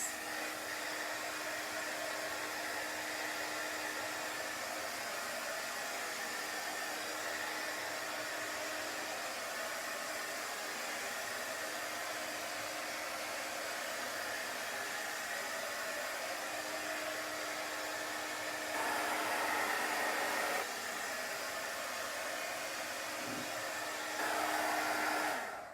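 A hair dryer runs for a long stretch while drying a Chalk Couture piece, a steady, close, whooshing hum that rises briefly in pitch twice.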